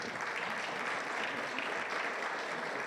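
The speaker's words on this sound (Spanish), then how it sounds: "Vamos a invitar al coro Silver con fuertes aplausos." Audience at a special church welcome service breaks into steady, dense applause to greet the Silver choir, a continuous wash of many hands clapping with no talk over it.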